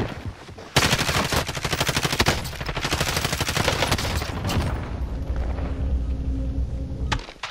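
Call of Duty Warzone gunfire rattles in a fast, sustained machine-gun stream, loud and close, then gives way to rumbling booms and scattered shots before cutting off.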